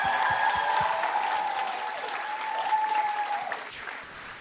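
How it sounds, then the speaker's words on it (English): An audience at the Brandeis MELA 2022 cultural show gives sustained applause that gradually fades toward the end. "Can we get another round of applause?"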